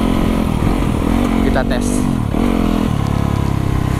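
A Yamaha YZ 250FX supermoto motorcycle is ridden, its single-cylinder engine droning loud and close with a pitch shift midway as the rider changes speed, while a voice speaks briefly over it.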